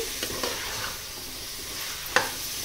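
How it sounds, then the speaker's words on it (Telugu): Chicken and masala sizzle in a pan as they are stirred, with a steady close frying hiss, a few soft scrapes early on and one sharp metallic clink near the end. "ఈ మసాలాలన్నీ బాగా పట్టేదాకా కలుపుకుందాం."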